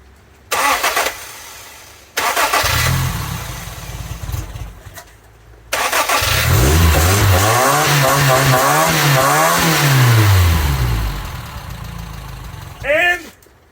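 A 1984 Toyota Tercel SR5 wagon's engine, its timing just adjusted, cranks in short bursts, then catches and revs up and down loudly, close by, before a brief final rev.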